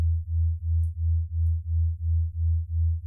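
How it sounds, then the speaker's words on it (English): A low, steady sine tone that pulses evenly in volume, beating about three times per second as two slightly detuned tones drift in and out of phase. "have two slightly detuned sine waves essentially drifting in and out of each other"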